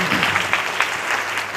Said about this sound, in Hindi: इन सब के लिए एक बार ताली हो जाए